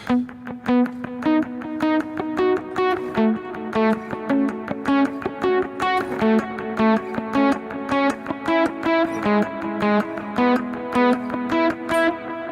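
A rhythmic, bouncy, syncopated palm-muted electric guitar line played in short notes, with delay echoes trailing behind each note in a roomy reverb, steady and prominent throughout.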